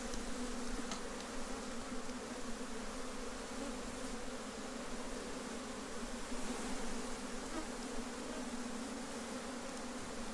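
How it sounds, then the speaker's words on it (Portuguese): Honeybees (Apis) swarm around an opened beehive while frames are being worked, a dense, steady buzzing drone that stays loud and continuous throughout with no voices. "Olha só a quantidade de abelha"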